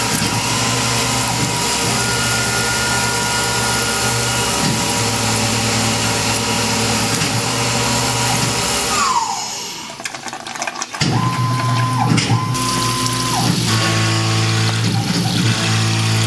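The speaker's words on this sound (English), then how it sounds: "Getting ready to drill the holes for the hold down clamps" A Tormach PCNC 1100 CNC mill is drilling hold-down clamp holes in a fixture plate. A loud steady spindle whine with tonal layers runs throughout. It pauses, then resumes with shifting pitches.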